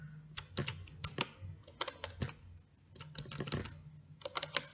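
Typing on a computer keyboard while entering MATLAB code: bursts of sharp, close key clicks in uneven clusters with short pauses, fairly quiet, no talking.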